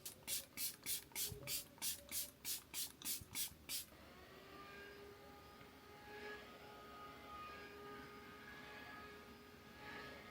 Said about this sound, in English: Again, I'm going to go in with the Rare Beauty 4-in-1 setting spray.